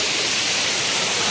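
The Ashokjhar waterfall roars close by in a forest picnic spot, a loud, steady broadband rush of falling water that fills the scene without a break.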